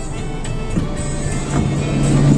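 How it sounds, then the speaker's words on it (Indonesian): Cars crawl in a stop-and-go traffic jam on the Ir. Sutami toll road in Makassar, a loud, steady engine rumble close by that swells slightly, with no speech. "kendaraan jalan paling jauh 5 meter berhenti lagi"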